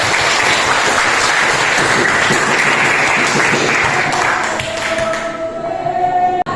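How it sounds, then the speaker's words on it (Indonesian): Students in a high school classroom clap together, a loud, close burst of applause lasting several seconds before tapering off, with a faint tone near the end. "Kita berikan tepuk tangan kita semua."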